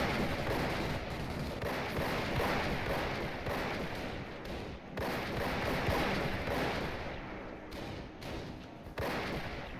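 Gunfire in Company of Heroes, a World War II strategy game, as squads with conscripts and grenadiers trade shots: continuous dense crackling rifle and machine-gun fire with heavy thuds, loud and unbroken throughout.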